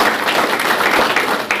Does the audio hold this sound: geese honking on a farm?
no